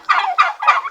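Turkeys (pabo) kept as backyard farm animals gobble in three loud, rapid bursts close by, one after another with brief gaps, no voices.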